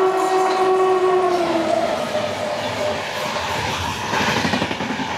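Falaknuma Express on the Howrah to Hyderabad run, with a drawn-out horn tone fading early over steady, loud rolling rumble and rattle of the moving carriages.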